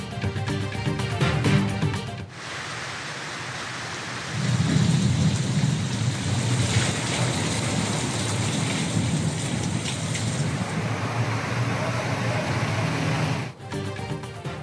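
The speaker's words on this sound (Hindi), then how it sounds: "पंजाब के मुख्तलिफ शहरों में बारिश, गर्मी का जोर टूट गया।" Heavy rain pours during a thunderstorm in Punjab, a loud, dense wash of drops with deep rumbling thunder rolling underneath, swelling midway and holding steady before cutting off abruptly.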